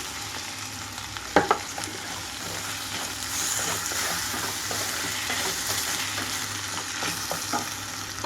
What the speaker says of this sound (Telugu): ఇందులోకి కట్ చేసి పెట్టుకుని టమాటో వేస్తున్నాను